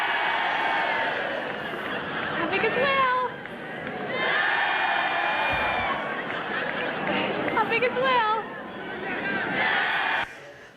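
Parade crowd cheering and calling out in response to a kid's hand signal, a loud dense roar of many voices with shouted rises and falls throughout, briefly dropping before surging again.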